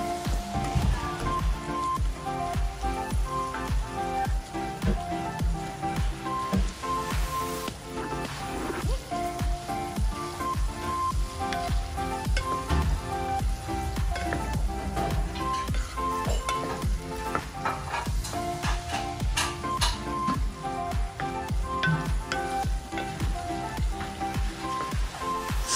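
Beef cubes and ground beef seasoned with salt fry in a pan for an empanada filling, giving a steady, close sizzle that runs throughout under background music.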